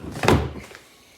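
A garage door, likely a roll-up or sliding type, opens in a workshop where an XC 700 VES is being readied, giving one loud thunking rattle that fades within a second.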